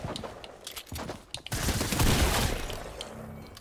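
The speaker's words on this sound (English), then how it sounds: "Stop shooting at me." Rapid gunfire aimed at the player in a shooter video game, loud bursts of automatic shots that build into a dense, sustained volley with a few brief gaps.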